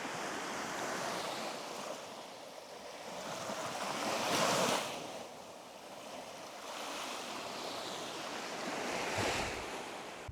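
Sea waves on a beach in Malta, steady rushing surf with two louder breaking swells, mixed with some wind noise on the microphone and no voices.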